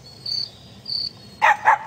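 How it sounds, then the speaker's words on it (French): A cricket chirps in short high trills, a few spaced pulses, against a quiet background, followed by a couple of louder brief yelps. "un grillon grésillait non loin de là"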